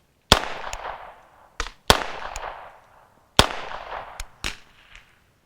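Single shots from a vz61 Skorpion in .32 ACP crack sharply outdoors, spaced irregularly with short echoing tails, six or seven loud reports over a few seconds.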